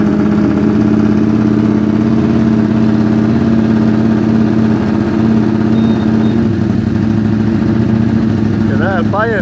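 Car engine idling on the choke after its exhaust valves were replaced, a loud steady low rumble with a slight uneven pulse throughout, and no throttle applied.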